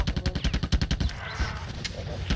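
Rapid bursts of gunfire from a weapon in the video game Marathon Infinity, a fast rhythmic volley of close, loud shots that stops after about a second, followed by quieter game ambience.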